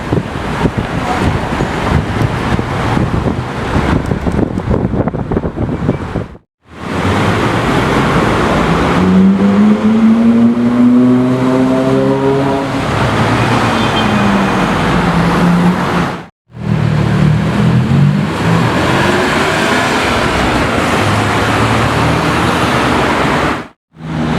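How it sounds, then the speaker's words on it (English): Porsche GT3 RS fitted with the Y-Soft package driving, a loud continuous engine and road roar with a rising, sweeping engine tone in the middle, broken by two short cuts. "A different GT3 RS with the Y-Soft package"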